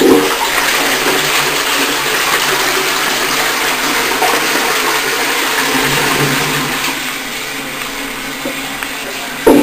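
A toilet in a public restroom flushes with a loud, sustained rushing roar of water that holds steady for about ten seconds before tapering slightly.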